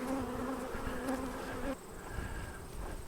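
Honey bees buzz around beehives fitted with supers, a dense continuous drone with a few nearer bees passing close, then the sound thins slightly to a softer steady hum.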